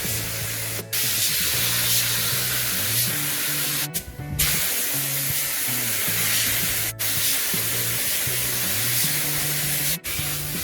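Spatter paint sprayed in repeated coats inside the trunk of a classic car during body shop restoration, a steady loud hiss with brief breaks between passes, no talking.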